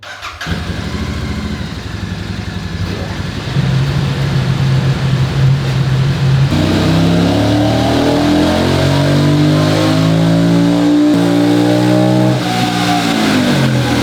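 A Royal Enfield 650 twin roars on a chassis dynamometer during a power run, the engine climbing through the revs loud and close with a rising, sustained pitch and no voices.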